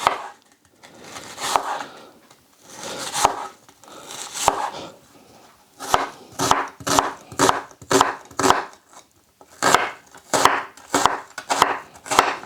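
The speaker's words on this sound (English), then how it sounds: "So we're going to slice it finely, like so." A knife slices beef finely on a wooden cutting board for Chinese beef and onion. The chopping is loud and close, first in sparse strokes and then in a steady run of rapid, evenly spaced cuts with no talking.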